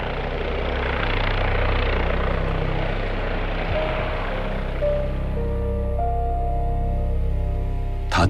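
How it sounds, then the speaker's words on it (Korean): Emergency rescue helicopter at a seaside dive site, its rotor and engine a loud, steady throbbing roar that holds throughout, with a faint whine rising toward the end. "응급 헬기까지 동원됐습니다."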